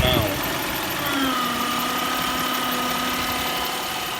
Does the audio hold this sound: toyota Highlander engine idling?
yes